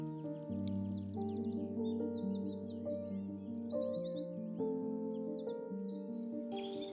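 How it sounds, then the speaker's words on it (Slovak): Birds sing in a spring forest, a dense chorus of chirps and warbling trills layered over a sustained tonal music bed, continuous and fairly clear throughout. "Zem sa zhlboka nadýchla čerstvého spevu vtákov"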